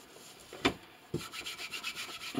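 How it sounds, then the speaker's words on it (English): Decoupage paper being rubbed down with Mod Podge onto a holiday cookie plate, a close, soft scratchy rasping that starts with a couple of taps and then settles into steady back-and-forth strokes. "and keep rubbing"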